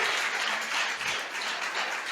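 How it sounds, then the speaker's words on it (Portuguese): A church congregation applauding during a worship service, a dense, steady wash of many hands clapping together at moderate volume, with no voices over it. "Você pode dar uma salva de palmas ao Senhor?"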